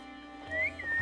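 A game character in Assassin's Creed Chronicles: China gives a single short rising whistle, clear and fairly close, with no talking over it.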